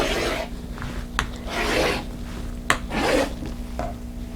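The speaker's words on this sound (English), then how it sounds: "the selvage is bowed, so I just want to cut that off" A 45 mm rotary blade slices along a bowed fabric selvage in three or four rasping strokes, each a soft scraping swish with a small click, close and fairly quiet with no talk.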